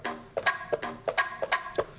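A Makey Makey circuit triggers an electronic bongo sound as contacts touch, producing about ten quick, hollow drum taps in an uneven rhythm, fairly quiet and close, with no talking over them.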